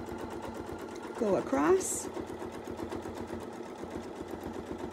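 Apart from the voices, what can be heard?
sewing machine stitching quilt fabric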